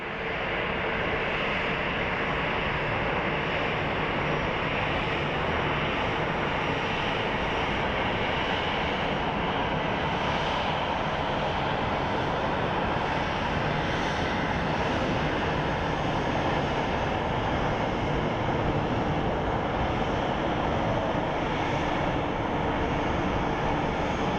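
A United Airlines Boeing 737 arrives at Phoenix Sky Harbor and taxis to its gate, its engines a loud, steady broadband roar that holds near and constant throughout.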